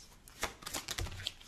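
Tarot cards shuffled and drawn, a soft run of papery riffles and slaps with one firmer flick near the end, close and quiet with no voices.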